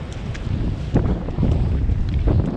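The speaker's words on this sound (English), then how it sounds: "It is windy and cold out here." Strong, cold wind on a beach buffets the microphone in low, rumbling gusts, with a steady rushing roar and no voices.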